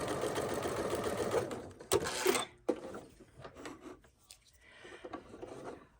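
A sewing machine stitches quilt blocks together in a close mechanical whir that runs in short bursts and stops, with fabric rubbing between runs.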